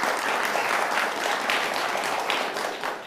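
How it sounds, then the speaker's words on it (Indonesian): Studio audience applause on an Indonesian television talk show, a steady, loud, continuous wash of clapping for about three seconds with no pauses. "Tepuk tangan buat Kang Ferry."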